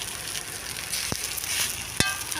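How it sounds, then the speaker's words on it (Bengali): Bitter gourd leaf fritters fry in hot mustard oil in a pan, a constant close sizzle with two sharp clicks from a utensil. "কড়াটা গরম হয়ে গেছে সর্ষের তেল দিয়ে দিয়েছে দিয়ে ভাজা করছে"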